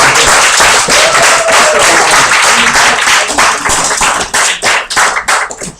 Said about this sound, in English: give a warm round of applause to everybody